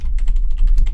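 Fast, close typing on a computer keyboard, a run of crisp, evenly spaced key clicks over about a second.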